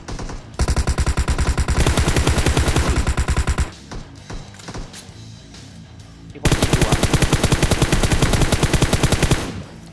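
Automatic rifle fire from a PUBG Mobile match on Sanhok, in long rapid bursts with a quieter gap of scattered single shots between them, loud and close.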